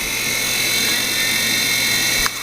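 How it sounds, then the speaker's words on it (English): A small toy remote-control helicopter flies close by with a steady, high whining rotor and motor buzz that holds level throughout, then drops off abruptly near the end. "he bought this little remote control helicopter, and we're just playing around, learning how to use it"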